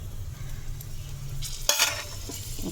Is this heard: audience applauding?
no